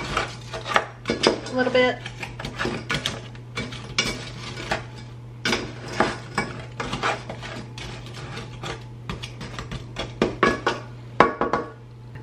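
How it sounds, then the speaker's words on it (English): A spoon stirs sugar, about three-quarters of a cup, into a mixture in a pot, making repeated scraping clinks and clatters close by against a constant low hum, with a few spoken words. "I'm gonna do about 3/4 of a cup. And I'm just gonna stir that up"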